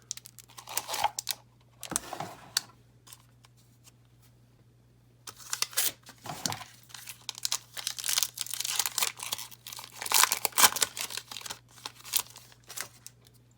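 Crinkly plastic wrapper of a Magic the Gathering Rivals of Ixalan booster pack being torn open and handled, loud close crackling bursts after a quiet pause, then dense rapid rustling and tearing.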